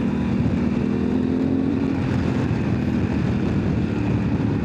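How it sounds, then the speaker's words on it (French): A 2025 Honda Africa Twin motorcycle exhaust echoing in a tunnel, a steady droning rumble with a low engine tone, continuous and fairly loud over the full stretch. "T'as entendu le bruit de l'échappement dans le tunnel?"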